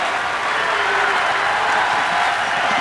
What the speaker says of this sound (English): Crowd likes the D so far.